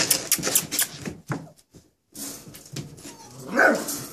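A dog barks in several sharp, close bursts with whimpering yips between them, a brief pause in the middle, then more barking and a higher yelp near the end, no talk.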